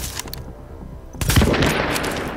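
A cleaner enemy exploding in The Division, a sudden heavy blast after a short lull, booming loudly and rolling on with crackling fire and debris.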